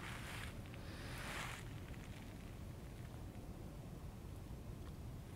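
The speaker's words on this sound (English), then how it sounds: "You can probably hear the trees rustling away there and the wind up in the air." Wind rushes steadily through trees on a calm riverbank at night during bank fishing on the River Ant in the Norfolk Broads, a broad, even roar with a couple of brief louder gusts near the start.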